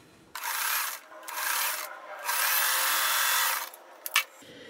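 A sewing machine stitches quilt block fabric pieces together, running in steady close bursts with short pauses between them and ending in a couple of sharp clicks.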